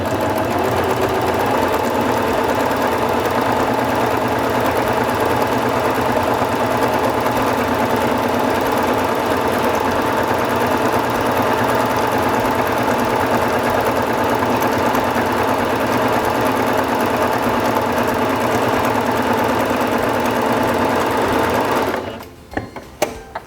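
A SINGER Fashion Mate 5560 sewing machine stitches a decorative pattern at maximum width, running with a steady, close, rapid mechanical whir and hum for a long stretch before stopping abruptly, with a few clicks at the end.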